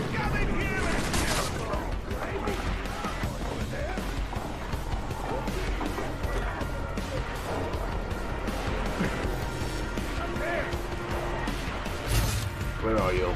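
Gunfire in a video game comes in rapid, uneven bursts of sharp cracks mixed with impacts and movement, while a voice talks throughout.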